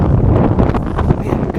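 Strong wind buffets the microphone outdoors in a store parking lot, a loud, continuous roar with gusty swells and no pauses.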